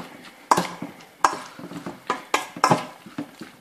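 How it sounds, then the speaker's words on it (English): Salsa gets stirred in a bowl with a utensil, giving a string of close scraping and clinking knocks in an uneven rhythm, with no talking. "So I'm just going to mix that up quite nicely."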